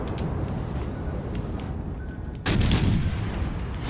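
Naval gunfire in World of Warships Legends from the HMS Surrey, a steady low rumble of battle noise broken by one sudden loud salvo boom that keeps rolling afterward.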